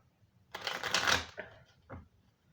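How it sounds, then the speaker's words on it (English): Tarot cards are shuffled up close: one dense riffling burst followed by two short, quieter flicks of the deck in an otherwise quiet room. "I'll shuffle that one more time."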